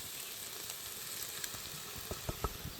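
Sliced leeks sizzle steadily in a frying pan over a village cooking fire, a faint even hiss with a few soft scraping knocks from stirring near the end.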